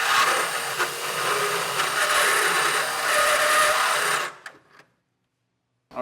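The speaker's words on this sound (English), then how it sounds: "I'm going to keep drilling this out" A power drill bores through the metal of a 2015 Ram 1500 truck bed for a fifth wheel hitch install, a loud sustained whining grind for about four seconds before stopping abruptly into silence.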